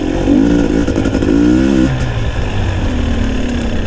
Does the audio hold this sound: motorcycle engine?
yes